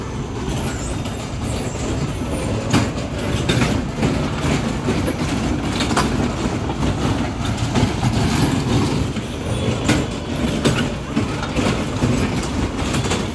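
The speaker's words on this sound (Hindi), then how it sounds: "ऐसा वैसा रोलर कोस्टर नहीं है, नीचे से भी जाएगा ये, इस तरफ से नीचे से।" A roller coaster ride runs in a mall in Delhi, giving a continuous rumbling roar with rattling clatter that stays loud and steady throughout.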